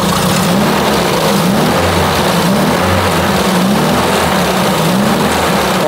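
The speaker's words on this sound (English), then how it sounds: "So I'll start it up. I'll show you real quick" Triumph Spitfire engine with a suspected distributor fault running after start-up, a loud, close, steady mechanical drone with slightly uneven pulsing in its low rumble, continuous and without speech.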